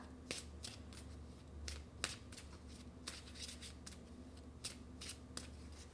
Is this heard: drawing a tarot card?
yes